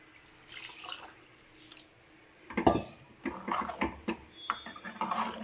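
Water is poured onto soaked tamarind in a kitchen while cooking drumstick-leaf sambar, with splashing, dripping and a few sharp clinks of a vessel, moderately close and without speech.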